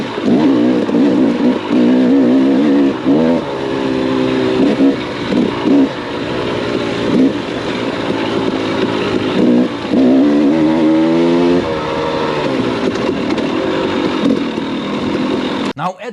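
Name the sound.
two-stroke dirt bike with Lectron Billetron Pro carb revving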